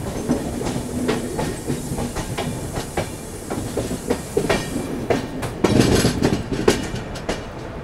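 Indian Railways' Rajdhani Express departs Panvel under overcast skies; steady rolling rumble with rhythmic wheel clicks over rail joints, heard from aboard, growing slightly louder and busier toward the end.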